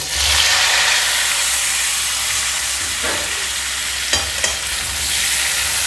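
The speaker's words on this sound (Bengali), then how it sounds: "চিংড়ি মাছ ভাজা তেলের ভিতর দিয়ে দিচ্ছি সিদ্ধ করা ওল।" Boiled elephant foot yam pieces hiss and sizzle in the oil left from frying prawns, a loud, constant fry with a couple of brief clatters as they are stirred.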